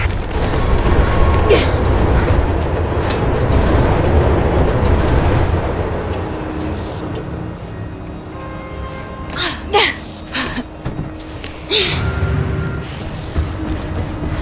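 A train in the video game Mirror's Edge rumbles past with a broad, loud roar that fades, followed by clanks and game sounds while a voice speaks.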